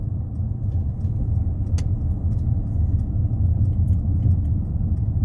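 A car drives along a road near Watford, heard from inside as a steady loud low engine and road rumble with a few faint ticks, no talk.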